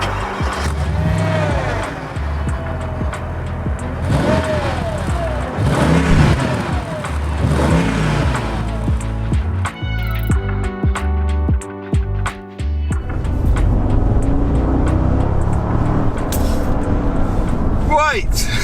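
A Mercedes SL55 AMG V8 revs hard through several rising and falling bursts, loud and close, then settles to a steady idle burble with a few sharp blips, with someone talking over it.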